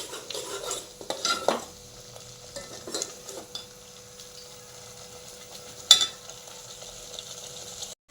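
A ground masala mixture for an egg curry is fried in a pot until the oil separates, with a soft steady sizzle under repeated scraping stirs. A sharp clatter of a utensil against the pot stands out near the end.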